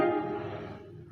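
A single sustained keyboard patch with its release set to 50 rings out briefly and fades smoothly within about a second, faint and alone.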